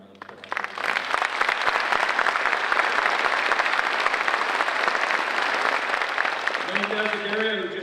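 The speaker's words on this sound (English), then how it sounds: "Tom deserves a great round of applause" A crowd at a county police academy graduation ceremony breaks into a round of applause honoring an instructor, swelling quickly and holding steady and loud before a voice begins speaking near the end.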